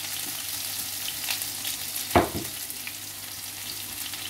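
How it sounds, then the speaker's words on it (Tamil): Ginger and garlic hit hot oil in a pan while making chilli idli, giving a quiet, steady sizzle with one sharp, louder burst of frying partway through. "இப்போ இஞ்சி பூண்டையும் போட்டுடலாம்."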